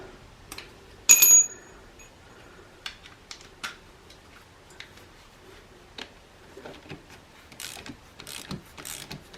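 Ratchet cranking a stubborn spark plug out of a locked-up 2004 Honda CRF250 engine during teardown, heard as scattered close clicks and short ratcheting bursts, with one louder metallic clatter near the start.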